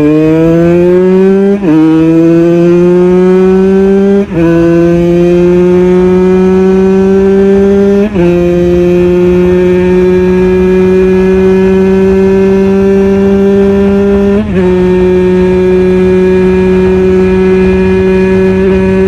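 A 125cc two-stroke motorcycle engine screams at high speed, very loud and close, its pitch climbing through several gear changes with brief dips between shifts.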